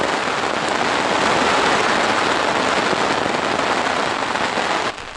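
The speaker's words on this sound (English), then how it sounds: "It's still raining," Steady, loud rain pours down in a dense, unbroken hiss and patter that drops off abruptly at the very end, with no voices.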